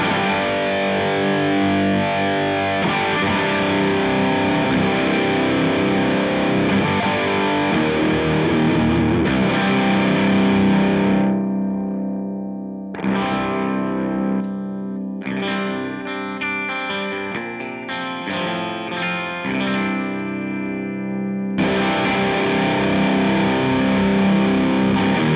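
Electric guitar through a Super Crush 100 amplifier, heavily distorted with chorus-like effects: sustained crunchy chords ring out, drop to choppier palm-muted bursts and single notes midway, then full chords return, loud and continuous with no talk.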